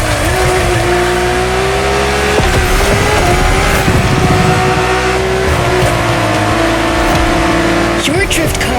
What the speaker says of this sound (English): Your drift car is powerful as hell.